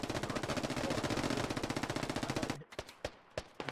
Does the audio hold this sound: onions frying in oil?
no